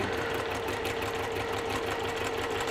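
A sewing machine stitching fabric along a marked line, a fast, even mechanical whirring chatter running continuously up close.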